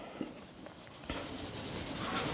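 Chalk or marker scratching steadily across a classroom board during a physics lesson, one soft tap followed by continuous scraping strokes, close and moderately quiet with no voice.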